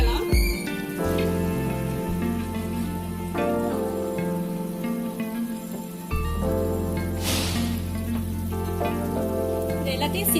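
Squid masala for a Tamil-style squid gravy fries and sizzles in hot oil while it is stirred, a steady crackling hiss running under background music.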